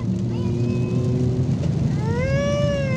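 Automatic-transmission car kicking down to a lower gear to overtake, a steady engine drone that rises into a climbing, louder rev after the downshift.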